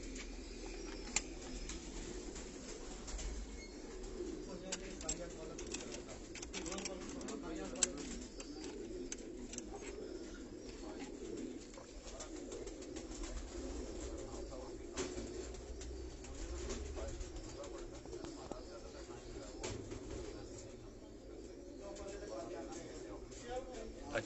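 A large flock of pigeons in a Karachi loft coos softly and continuously in a low murmur, with occasional faint rustles and clicks, while someone talks over them throughout.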